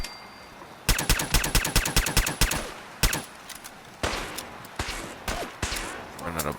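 Rapid automatic gunfire in Fallout 4, a quick burst of evenly spaced shots followed by scattered single shots and further bursts, loud and close, with game noise between volleys.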